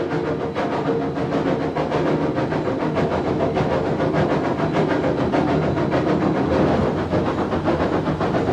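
A steam locomotive working through a tunnel makes a dense, loud wall of sound: rhythmic chuffing and hissing steam over a heavy rolling roar of wheels on rails, sustained and close throughout, with no voices.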